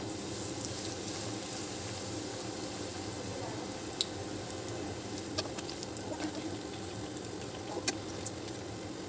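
Leftover naan slices fry in hot oil with a steady, close sizzle that runs throughout, broken by a few sharp pops and crackles.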